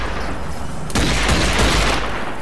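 Gunshots from the zombie shooter Zombie Army 4 erupt in a loud, dense roar of rapid fire and booms, crowding out a steady background rumble for the latter half of the moment.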